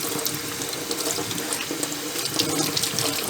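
Tap water runs steadily into a sink while human hair on a reborn baby doll is rinsed, a continuous close splashing rush with small shifts as the flow hits the hair and basin.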